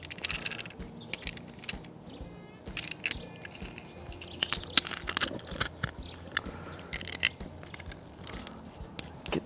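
Garlic cloves are crushed into butter for sautéing pizza vegetables, giving irregular crunchy, squelching snaps and clicks at close range with scattered sharp metallic taps and no talk.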